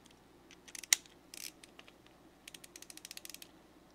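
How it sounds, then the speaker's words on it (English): Wera ratcheting screwdriver ratchet clicking, quiet close ticks: a few scattered clicks and a brief burst early on, then a rapid even run of light clicks toward the end. "This Annex ratcheting screwdriver has very low back drag."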